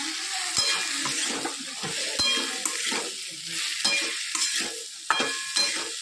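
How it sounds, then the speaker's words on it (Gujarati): Fried potatoes and okra are stirred in a kadai, with repeated scraping and clinking of a spoon against the pan over a steady sizzle, close and moderately loud, without speech. "સરસ બધું મિક્સ કરી દઈએ."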